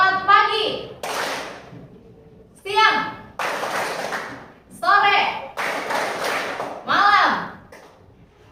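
Classroom of students clapping together during an ice-breaking game in an English class, several loud bursts of group applause alternating with a teacher's spoken prompts and children answering in chorus.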